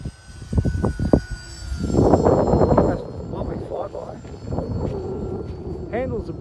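A model Beechcraft airplane flies in gusty wind, its engine droning steadily with a rush of wind noise, while people talk nearby.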